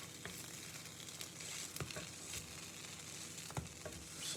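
Bacon frying in a pan on low heat, giving a steady, soft sizzle with faint crackles and a few light clicks or knocks of utensils. No one speaks.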